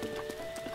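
Horse hooves clip-clop in Breath of the Wild, a few soft, spaced steps under a steady tonal game background, fairly quiet and brief.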